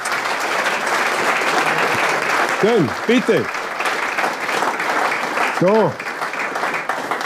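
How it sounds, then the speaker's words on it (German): Steady applause from an audience at a live panel talk fills the whole stretch, dense and continuous, while someone speaks briefly over it. "Bitte einen großen Applaus"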